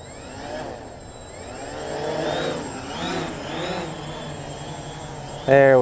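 Motors on a Helimax Form 500 helicopter spin up, whining tones rising and falling in pitch over a low hum, ending in a sudden louder burst; close by and moderately loud.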